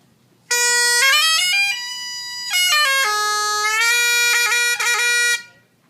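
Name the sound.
bagpipe chanter double cane reed played outside the bag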